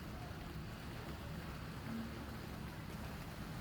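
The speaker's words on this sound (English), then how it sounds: "It's raining." Steady rain falling around a camp porch in wild weather, a soft even hiss with faint pattering, distant and unbroken throughout.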